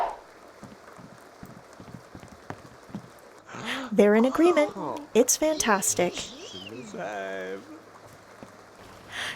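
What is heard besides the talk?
rain falling in the video game The Sims 2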